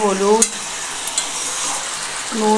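Malabar spinach frying in a pan with five-spice, bay leaf, dried red chilli, salt, turmeric and sugar makes a loud, steady sizzle. Brief bits of voice are heard at the start and end.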